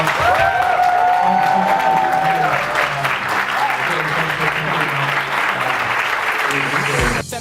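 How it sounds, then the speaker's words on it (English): A large audience breaks into loud, sustained applause for Gary Vaynerchuk, with crowd cheering and a few voices rising over the steady clapping before it cuts off abruptly near the end. "I think Gary deserves like a really big round of applause"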